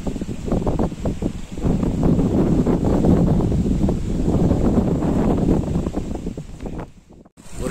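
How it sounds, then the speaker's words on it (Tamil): Steady wind blowing over a paddy field, a continuous loud rushing buffet against the microphone with rustling texture and no speech. "காற்றும் அழகாக காத்தடிக்குது பாருங்கள்"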